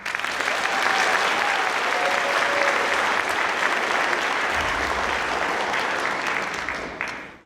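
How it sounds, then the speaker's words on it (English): An audience at a youth awards ceremony applauds a nominee, sustained dense clapping from a large crowd that stays loud for about seven seconds before quickly fading out at the end. "Give a round of applause for Jasmine."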